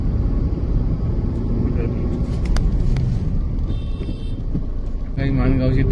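Heavy road traffic on the way to Mangaon, a constant low engine rumble from a moving vehicle, with a few brief horn-like tones and a louder passing vehicle near the end.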